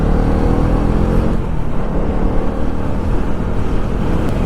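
A motorcycle rides over a bumpy concrete road full of potholes on a solo trip from Jabalpur to Hyderabad, its engine a steady loud rumble mixed with rough wind and road noise throughout, with no talk.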